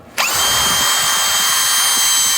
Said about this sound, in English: Now we're going to drill a hole.